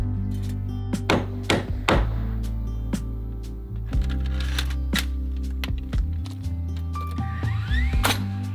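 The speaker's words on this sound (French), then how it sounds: "il va falloir encore qu'on cloue toute la partie haute" Hammer strikes drive nails into the upper part of wooden wall cladding on a building site, a handful of sharp, irregular knocks at close range over a low, steady hum.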